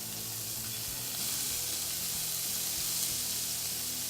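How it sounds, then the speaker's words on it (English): Four strips of bacon crisp in a skillet, giving a steady, close hiss and crackle of frying fat that holds at an even level throughout, with no voices. "In the skillet, we're going to add bacon. 4 strips of bacon."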